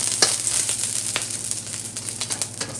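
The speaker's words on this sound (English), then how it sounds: "We added the white part for the green onion into the oil. Careful. Just slowly to fry it until it's golden brown." The white part of green onion fries in hot oil with a continuous bright crackling sizzle, close and steady, punctuated by a few louder pops, with no talking.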